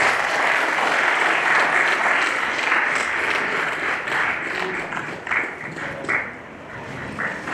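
Audience applause at a university MOU signing ceremony welcoming a vice president onto the dais, a dense, steady round of clapping from a crowd that holds loud throughout and thins slightly near the end.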